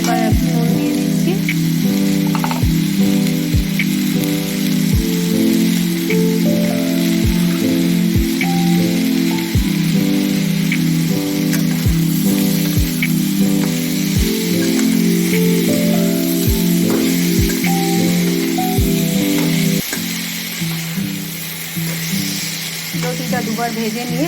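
Taro stolons fry in oil, giving a steady, dense sizzle with regular soft knocks from stirring. The sizzle runs continuously and drops a little toward the end, and a voice is faintly present at times.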